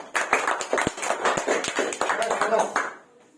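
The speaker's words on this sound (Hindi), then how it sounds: "मॉनिटर ताली मारो" A class of students clap their hands in an English lesson, producing a run of quick, sharp claps over roughly three seconds amid classroom voices before the room falls quiet.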